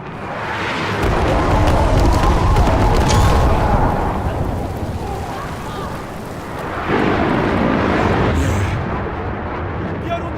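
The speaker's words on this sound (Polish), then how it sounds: "Rozpoczynam nalot." Airstrike in the Battlefield 6 video game: a dense, continuous roar of heavy explosions and deep rumbling, loud and close throughout, with a fresh surge of blasts partway through.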